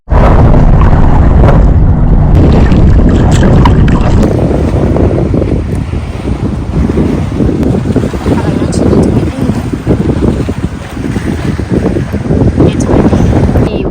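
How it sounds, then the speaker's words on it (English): Strong wind buffeting the microphone with heavy rumbling gusts on Lake Geneva, loud and continuous, with water sounds in the background. "It's windy."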